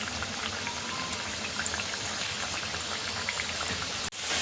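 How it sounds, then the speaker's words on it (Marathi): Wheat flour and jaggery fritters (kapnya) drop one by one into hot oil and fry in a steady, dense crackling sizzle that stays loud throughout, with a brief dip near the end. "आपलं तेल व्यवस्थित गरम झालेलं आहे त्यामध्ये आता आपण एक एक सोडून देऊया"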